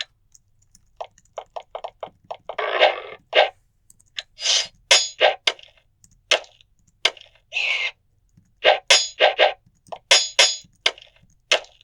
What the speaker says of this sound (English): Pearl has a rapier and a broadsword equipped, and yet they're both making the tink sound effect